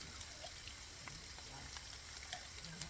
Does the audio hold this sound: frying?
yes